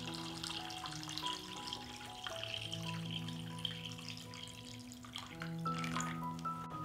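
Water pours steadily into a pot of glass jars standing on a cloth, filled to lid height for pasteurization, with ringing tones that change as the level rises, heard up close with no voices.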